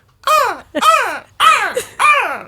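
At a live seagull-imitation contest, a person's seagull cry comes out like a crow's caw: four harsh, close, loud calls, each rising then falling, spaced evenly over a couple of seconds.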